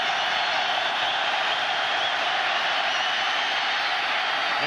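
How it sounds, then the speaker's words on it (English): A 1995 Syracuse versus Miami college football stadium crowd roars continuously on fourth down, a dense, steady wall of cheering at even loudness from start to finish. "Crowd is standing and cheering on 4th down."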